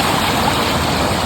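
Typhoon floodwater flowing through a village like a river, a loud, steady rushing roar that fills the whole moment without a break.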